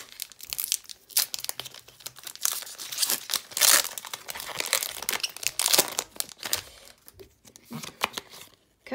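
A Pokémon 151 booster pack is torn open by hand, its foil wrapper crinkling and crackling in a busy run of close, sharp rustles, with a brief quieter pause near the end.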